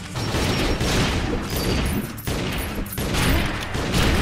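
Rifle fire crackles in the Western shooter game Secret Ponchos, a loud, continuous volley of shots with brief gaps, close and dominant throughout.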